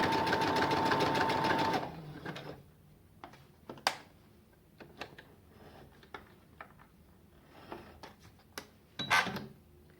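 A sewing machine stitches in a fast steady whir for about two seconds, then stops, followed by scattered clicks and taps of the mechanism and fabric being adjusted.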